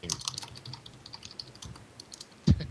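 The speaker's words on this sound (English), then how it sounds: "just rapidly typing to him" Rapid typing on a computer keyboard, a quick irregular stream of close light key clicks with one louder thump near the end and no speech.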